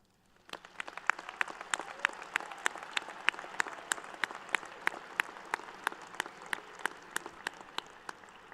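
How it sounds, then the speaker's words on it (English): At a winter commencement ceremony, a graduation audience claps in a crisp, steady patter of individual hand claps, fairly distant and moderately quiet, going on for several seconds with no talking. "Would you mind joining me in applauding the people you love?"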